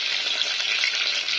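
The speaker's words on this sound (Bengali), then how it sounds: "ছোটো সাইজে দেখতেছেন কোফতা রেডি হচ্ছে, কোফতা পোলাও রেডি হবে। এখানে ফ্রাই করা হচ্ছে।" Small koftas fry in a pan of hot oil, a dense continuous sizzle, close and fairly loud, with no other sounds.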